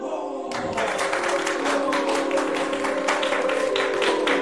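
Audience applause bursts in suddenly and keeps going steadily, a loud, dense wash of many hands clapping close by in a hall, with no voices over it.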